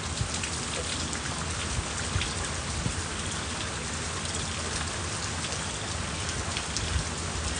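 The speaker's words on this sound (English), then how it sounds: "I'm hearing all this water." Heavy rain pours down during Texas flooding, a dense, continuous hiss and patter of drops hitting surfaces close by, steady and loud throughout with no talking.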